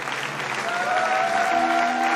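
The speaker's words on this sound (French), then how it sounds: "Acclamez pour la parole de Dieu." A church congregation claps and cheers in praise, a dense, sustained wash of applause filling the room for a couple of seconds, with a held sung or organ-like tone running through it and no speech.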